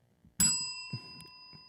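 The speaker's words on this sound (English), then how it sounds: "I could just pull it back and flop it onto the bell if I want to" Table bell struck when a suction-cupped object flops onto it: one bright, close ding that rings on with a long sustained tone, followed by a couple of lighter taps and soft knocks.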